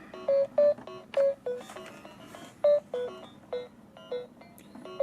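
Duke Nukem 3D music on the Game.com handheld, a thin, harsh beeping melody of short tonal blips over a hissy background, fairly quiet and tinny.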